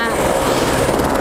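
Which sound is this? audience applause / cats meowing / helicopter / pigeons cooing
helicopter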